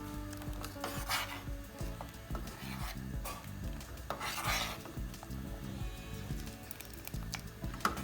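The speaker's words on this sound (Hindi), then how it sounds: "इसमें साथ साथ चम्मच चलाते जाएं ताकि लम्स ना बने।" A spoon stirs hot and sour soup in a pot, a soft, steady rhythmic scraping and clinking with a faint sizzle beneath, quiet and close.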